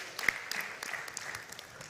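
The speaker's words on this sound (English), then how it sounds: "The TikTokers, stand up, clap for them." Scattered applause from an audience at a live event, a thin spread of hand claps with one sharper clap early on, fairly faint and short.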